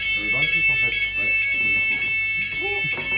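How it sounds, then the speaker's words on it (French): A fire alarm blares continuously with steady high-pitched tones, loud and close, while people talk over it throughout. "il y a l'alarme incendie qui se lance"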